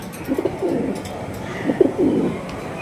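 Pigeons at a pigeon market give soft, low cooing calls in short bursts, close by and fairly quiet, with no talking.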